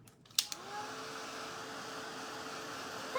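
A hair dryer runs steadily to dry paint on a wooden reindeer painting, a constant close whooshing hum after a couple of clicks at the start, with no talk over it.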